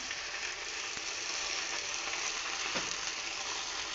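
Onion, ginger and garlic paste frying in a pan for palak paneer, a steady close sizzle with faint crackles and an occasional stir, no voices.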